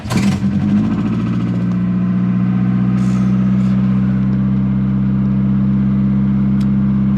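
A Volkswagen Golf 2 with a Weber carburettor cranks briefly and starts on choke, then settles into a loud, steady idle with a low constant drone close by.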